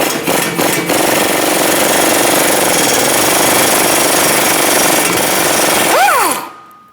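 A loud, steady impact wrench with an 18mm socket hammers and rattles continuously for several seconds on a tie rod nut of a 2012-2020 Chevrolet Sonic, then winds down with a falling whine before cutting off.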